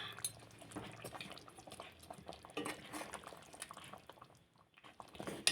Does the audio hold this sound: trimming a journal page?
no